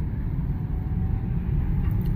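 An MG5 estate car pulling away slowly in traffic behind a truck, heard from inside as a steady, low road and engine rumble throughout, fairly quiet and even.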